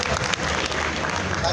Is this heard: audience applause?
yes